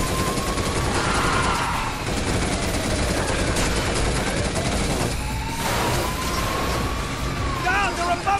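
Bursts of automatic gunfire from a shootout in the video game Binary Domain crackle amid engine and vehicle noise, with game characters shouting over the steady action.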